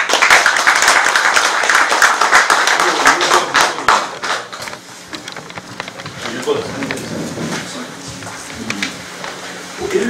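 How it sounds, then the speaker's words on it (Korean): Large applause from an assembled audience at a Korean Buddhist Taego Order election event, with candidates presenting pledges for head of administration. Loud, dense clapping fills the first half, then fades into quieter scattered claps, taps and background voices. "여러분들은 커다란 박수로서의 격려를 해주시기 바랍니다"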